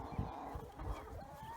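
Chickens cluck softly inside a mesh-floored chicken tractor, a low, continuous murmur of faint clucks with steady background noise.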